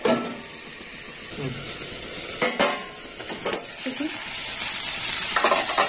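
Drumstick flowers with vegetables fry in a pan, giving a steady hissing sizzle with occasional sharp clinks and scrapes of a spatula against metal.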